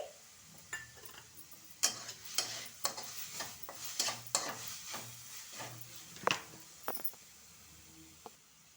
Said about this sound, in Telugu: అల్లం వెల్లుల్లి పేస్ట్ కూడా వేసుకుని బాగా పచ్చివాసన పోయేంత వరకు వేయించుకోవాలి